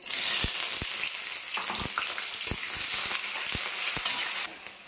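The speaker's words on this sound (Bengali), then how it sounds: "আর দিয়ে দেবো কুচনো পেঁয়াজ" Chopped onions fry in hot oil with cumin seeds in a wok for a young jackfruit curry. A constant loud hiss carries sharp ticks and pops from stirring, then drops off suddenly at the end.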